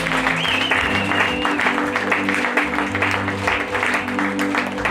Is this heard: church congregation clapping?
yes